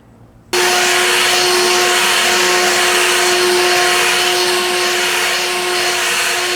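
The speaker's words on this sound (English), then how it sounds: "we're going to go ahead and use the leaf blower, hold it about 2 feet away, and then we're going to blow out all of the actual casting cracks" A leaf blower blasts excess polymeric sand off patio blocks, starting abruptly and running as a loud, steady whine with a strong constant tone close by, no talk.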